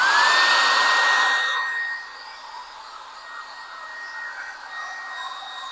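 A hair-dryer-style heat blower warms rust and patina paint with a steady, loud whoosh that drops to a softer, continuing hum after about two seconds.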